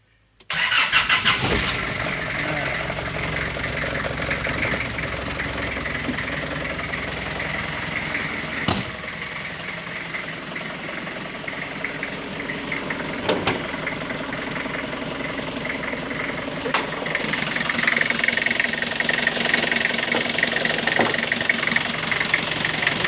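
A 1997 Nissan Big-M pickup truck engine cranks and catches, then settles into a steady, smooth idle without coughing or sputtering, running on close by for about twenty seconds with no talking.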